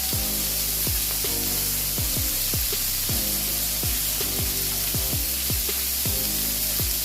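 Bacon frying in a pan, a steady loud sizzle and crackle with repeated sharp pops and spits scattered throughout, no talking.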